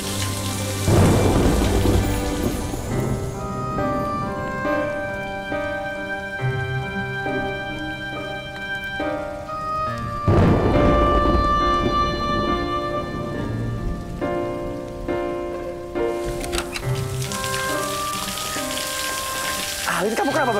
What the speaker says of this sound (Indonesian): Belum juga ini lagi hujan.